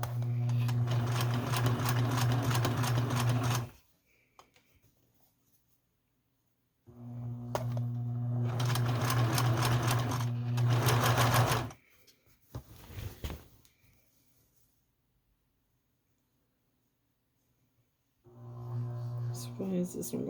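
A sewing machine stitching a quilt border runs in three steady whirring bursts separated by quiet gaps, close and clear, with a brief clatter between runs.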